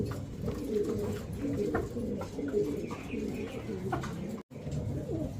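Red Danish pigeons and other birds coo continuously at a pigeon sale, with soft, overlapping throaty calls and faint background chirps, fairly quiet and nearby.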